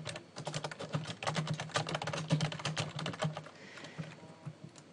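Typing on a computer keyboard while entering a WordPress post, a fast close patter of key clicks with slight pauses that trails off near the end; no voices.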